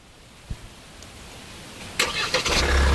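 A Hyundai car engine is started with the remote key fob: a small click, then the starter cranks and the engine catches into a steady idle that grows louder, heard close by without talking.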